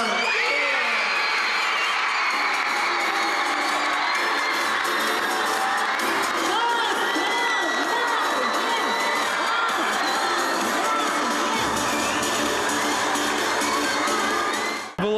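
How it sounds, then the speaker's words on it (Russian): A packed hall erupts with a loud, continuous roar of crowd cheering, whoops and shouting from spectators at a knight tournament, the noise sustained at full intensity throughout before cutting off abruptly at the end. "Зал разрывается от криков"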